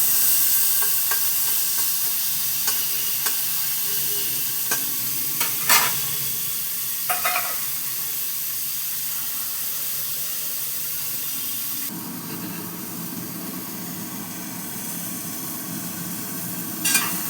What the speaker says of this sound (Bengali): একটু হালকা কাঁচা ভাবটা তুলে নেওয়ার জন্য চিংড়ি মাছটা ভেজে নিচ্ছি